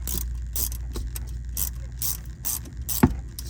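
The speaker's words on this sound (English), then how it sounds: "take me a gear wrench. And ratchet away." A gear wrench ratchets on a fastener while someone works on a golf cart's governor cable, producing a regular series of quick, close clicking bursts. There is one sharper knock near the end.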